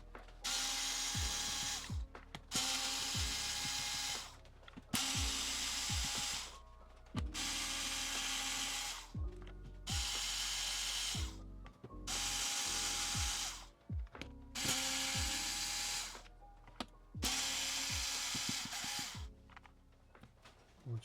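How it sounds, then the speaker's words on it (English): Screws being removed from the plastic casing of a JBL Tuner 2 speaker, heard as a ratcheting driver clicking in steady bursts of about two seconds each, repeated about eight times with short pauses between. "it looks like we've got 8 more screws around the edge here, so we'll tear those out right now"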